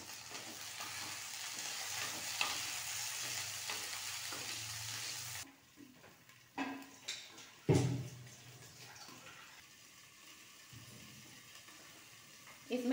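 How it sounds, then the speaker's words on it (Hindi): Onions and peas frying together in a pan for vegetable biryani: a steady, loud sizzle for the first half, then quieter frying broken by a few stirring knocks and scrapes. "इस प्याज को इसमें मिला देंगे और साथ में मटर जो थे उसे भी मैं इसमें डाल दूंगी। डालने के बाद मैं इसे अच्छे से भूनूंगी।"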